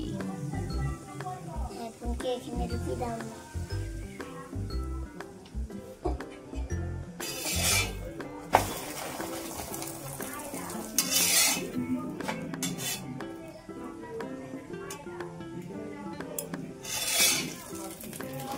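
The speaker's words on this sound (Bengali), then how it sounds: "তো এটা উল্টি পাল্টি ভেজে নেব ভালো করে।" A chicken roll frying in a pan and being flipped over, with clinks and scrapes of a utensil against cookware and sizzling underneath, punctuated by a few sharper clatters, while people talk.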